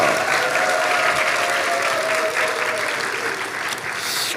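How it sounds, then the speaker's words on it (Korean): A church revival congregation applauds its pastor, a dense, loud, continuous wash of clapping from a large crowd that holds steady for the whole stretch. "여기 백 목사에게 박수 한번 해주세요"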